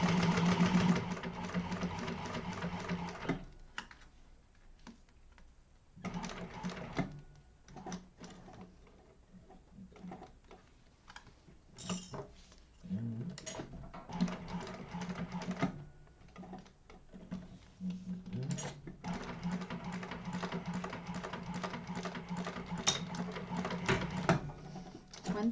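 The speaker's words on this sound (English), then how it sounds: "And then top stitch across." A sewing machine topstitches across a bag lining in several runs of fast, even mechanical rattling. Short pauses break up the stitching, and the sound is close and fairly steady.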